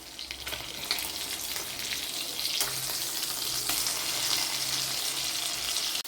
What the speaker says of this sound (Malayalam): ഇനി ആ ഭാഗം കൂടി ഒന്ന് ഫ്രൈ ആയിക്കോട്ടെ